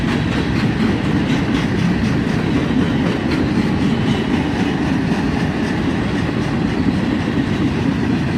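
Freight train of tank cars and covered hoppers rolling across a bridge, a steady close roar with continuous rhythmic clacking of wheels over rail joints throughout.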